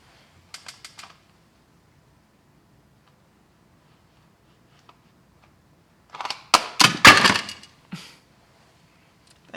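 Clicky keystrokes on a computer keyboard come in two bursts, a short patter near the start and a louder, denser run of taps a few seconds later, with silence between and no voices.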